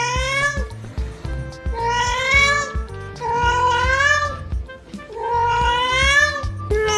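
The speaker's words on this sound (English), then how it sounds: "these feline voices will surprise you" A cat meows and caterwauls in long, rising and falling wails, four drawn-out cries close and loud, with low clattering background sounds between them.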